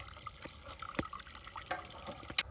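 Leftover water draining out of a pressure washer's tank after house washing, a steady liquid trickle and splash with a few sharp drips standing out, close by and moderately loud.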